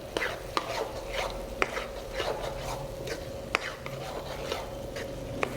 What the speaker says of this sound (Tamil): இதோட நம்ம அந்த வேக வச்ச கறியை இதில் ஆட் பண்ணுறோம்